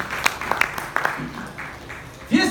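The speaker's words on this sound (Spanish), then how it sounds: "Denle aplauso al Señor." A church congregation at a Spanish-language sermon gives a scattered round of clapping, with separate sharp claps under and between a preacher's speech.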